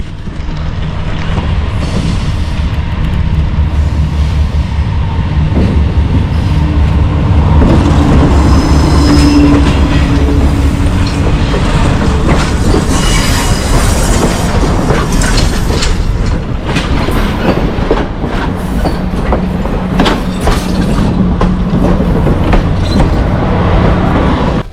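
A train rolls past on a rail line beside a bike trail, loud and close for the whole stretch, with steady rumbling wheels, rattling cars and occasional metallic squeals.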